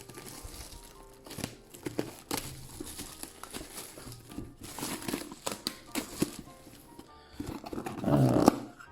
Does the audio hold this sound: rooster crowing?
no